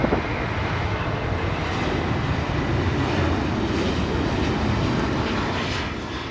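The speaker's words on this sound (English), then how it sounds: "Runway 16 right, clear for takeoff." Airliner taking off from runway 16 right at Sydney Airport, a loud sustained jet engine roar that holds steady and then eases slightly at the end.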